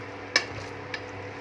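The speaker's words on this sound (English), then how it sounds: "in frequent intervals you can just stir it, so it's not going to just get stick inside the bottom of the pan" Pieces of mutton fry quietly in a pan with a low, steady sizzle, broken by two quick clinks of a utensil scraping the pan as it is stirred, no talking.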